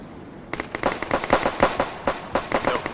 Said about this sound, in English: And there's gunfire.